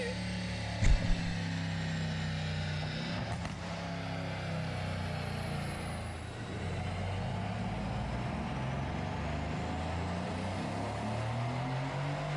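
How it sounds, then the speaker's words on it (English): A tuned 2017 Mercedes-AMG C63 sedan with a 4-liter engine rumbles in a deep, steady drone, with a sharp pop near the start and continuous mechanical roar throughout. "I know this is a 4-liter, but it still sounds amazing in terms of an AMG."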